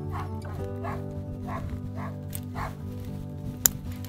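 Harnessed sled dogs yip and bark in repeated bursts at a regular pace, with a sharp cry near the end over a steady low hum.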